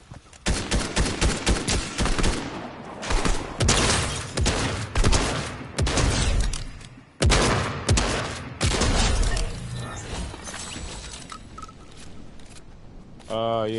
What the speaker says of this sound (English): that's me shooting that shotgun